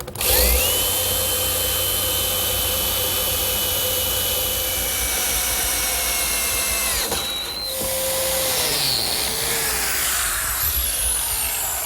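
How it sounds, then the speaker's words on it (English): A power drill drives screws into the bottom of laundry center partitions, whining loudly and steadily for several seconds, then stopping and starting again in shorter, uneven bursts with workshop noise around it. "I'll attach them by driving some screws through the bottom"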